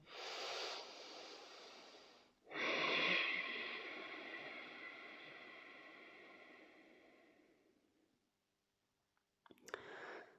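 Slow, audible Ujjayi breaths during a guided breathing exercise, each a long hissing, throaty rush of air that swells and fades over several seconds, close and soft, separated by near silence.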